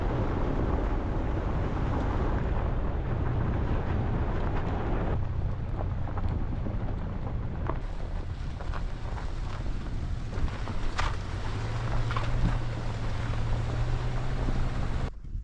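Strong desert wind buffets the microphone in a steady, roaring rush, with gusts that swell and shift throughout and no voices.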